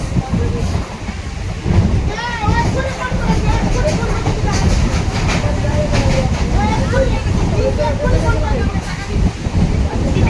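A local train runs along the tracks toward Sonarpur, a loud continuous rumble with rhythmic rattling and squeals, while voices talk over it throughout.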